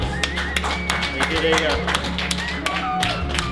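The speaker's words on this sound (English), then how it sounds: "I'd like to give them a big hand, big round of applause." A handful of people clap sparsely and unevenly after a paranormal investigation at Slater Mills, with scattered sharp claps over a low steady hum and people talking throughout.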